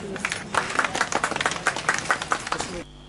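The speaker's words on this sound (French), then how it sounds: "Message bien apprécié et message bien applaudi par les enseignants" A room of teachers applauding after a message at an event, dense steady clapping from many hands that stops abruptly near the end.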